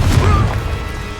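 A Confringo blasting spell in Hogwarts Legacy erupts as a heavy, booming explosion with dense low rumble and crackle, loud from the start and slowly fading away.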